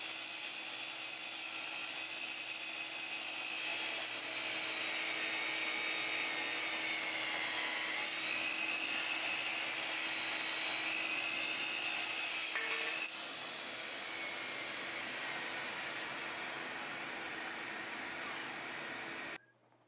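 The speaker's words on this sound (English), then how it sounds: "Next is sample footage cutting that tubing, but instead in real time so you can see how long it does take to cut it." A mitre saw cuts through aluminum tubing in real time: a steady, fairly loud whining rasp that holds without letup, shifts slightly in tone partway through, and then cuts off at the end.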